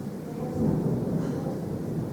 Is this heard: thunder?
yes